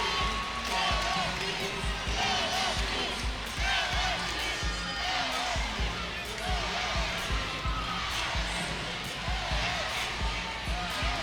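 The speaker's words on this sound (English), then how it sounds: "The crowd is excited in here." Crowd at an NCAA gymnastics regional final in Baton Rouge cheers and roars steadily, filling the arena with loud, sustained noise while a commentator talks over it.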